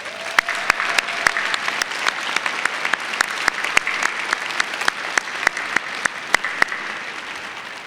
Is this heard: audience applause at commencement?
yes